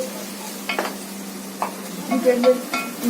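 Masala stirred in a pan with a spoon makes a soft sizzle with intermittent scraping strokes and light metallic clinks close by, over a low steady hum, with no talking.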